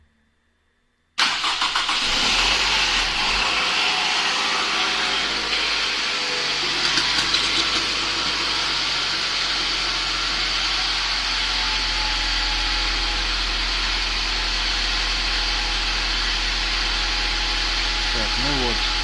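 A 2007 Toyota Avensis with a freshly rebuilt 2AZ-FSE engine cranks and catches about a second in, then settles into a steady, even idle that carries on close by, with a few voices briefly heard.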